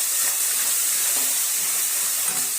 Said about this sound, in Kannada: ಇಟ್ಟಿದಂತ ಬೆಳ್ಳುಳ್ಳಿ ಹಾಕಾಕತ್ತೇನೆ